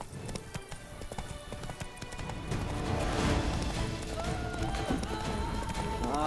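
Hoofbeats of the horse Roach galloping in The Witcher 3, a rapid clip-clop that grows into a louder, denser rumble mixed with game sounds, heard close with no talking.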